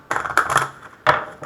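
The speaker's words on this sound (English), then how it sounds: "So we'll give them a quick shuffle." Tarot-style lesson cards are shuffled by hand in quick riffling bursts, close and crisp, with brief pauses between the papery slaps.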